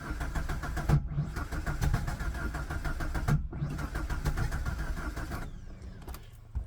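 A starter motor cranks an Iveco Daily van engine in repeated rapid, chugging bursts, pausing twice between attempts, loud and close, before the cranking stops and the engine settles.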